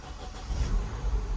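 A rebuilt R56 Mini Cooper S engine cranks and catches, settling into a low, steady idle with slight revving swells, close up with no voices.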